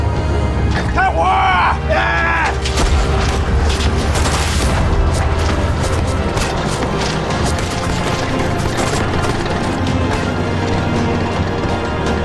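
Battle gunfire and artillery in a war drama set during the Korean War with Chinese volunteers: dense, continuous roar of booms, crashes and rattling shots at full loudness throughout, with shouting voices mixed into the chaos early on.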